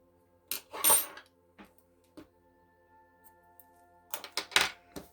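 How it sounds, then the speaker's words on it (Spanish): Scissors snip through crochet yarn at the end of a crocheted bag piece, a few sharp metallic clicks and short cuts close by, separated by quiet pauses. "Apretamos y cortamos hilo."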